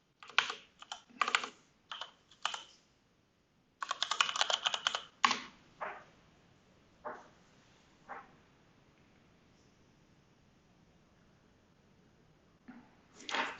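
Bursts of computer-keyboard typing as a password is entered, quick clusters of key clicks separated by pauses, close and fairly quiet with no talking.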